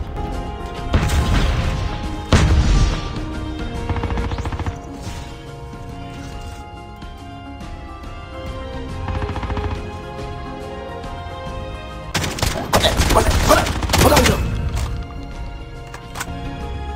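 Video game airstrike with heavy explosions and crashing impacts in loud bursts, a pair early on and a dense cluster near the end, over a steady rumbling game mix.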